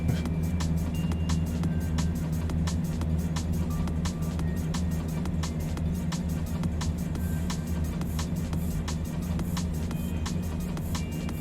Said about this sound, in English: noise is just the truck anyway